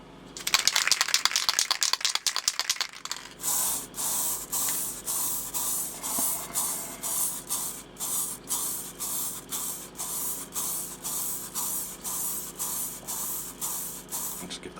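An aerosol can rattles as it is shaken, then sprays a coat over a sheet of printed water-slide decal paper in a long run of rhythmic hissing bursts, each about half a second long.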